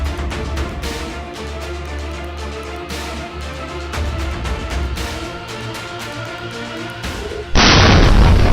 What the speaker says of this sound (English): Propane truck went boom like fireworks in a quiet neighborhood.